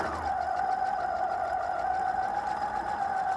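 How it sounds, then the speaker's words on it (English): A sewing machine runs a steady straight stitch down the side of a smocked fabric piece, with an even, continuous whir close by and no talking. "so I'm going to just straight stitch down the other side"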